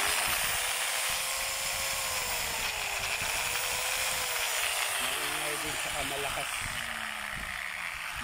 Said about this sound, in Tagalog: Maingay din siya, tsaka malakas yung spark ng armature.